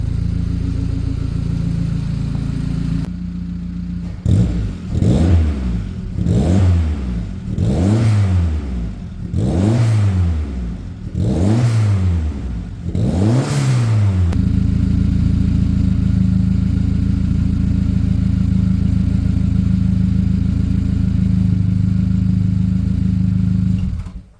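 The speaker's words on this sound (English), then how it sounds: "First start accomplished. Really pleased. The engine sounds decent." A UAZ 452 4x4 with a turbocharged Saab 2.3 engine, on its first start, idles, then revs up sharply five times in quick bursts before settling back into a steady, loud idle.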